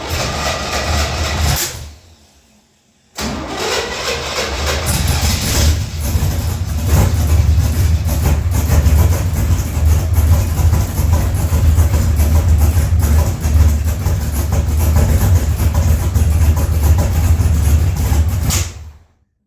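A tunnel-ram gasser car engine idles loud and close, a steady heavy rumble broken by a short dip near the start before it settles into a continuous throaty run that cuts off at the end.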